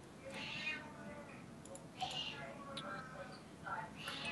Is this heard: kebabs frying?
no